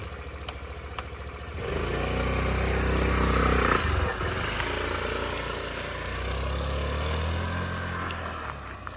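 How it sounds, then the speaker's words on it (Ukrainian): A new 2023 Suzuki Avenis 125 scooter engine running quietly nearby, a low steady hum that swells after a couple of seconds and holds under faint ticking. "дуже тихенько працює сам двигун"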